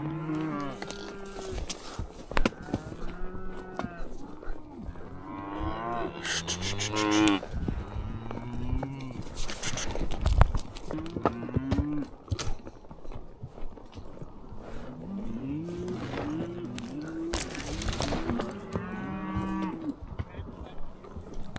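Cattle being herded and trailed back toward a corral moo repeatedly, with many overlapping low calls from several animals near and far, plus occasional hoof clatter and rustling.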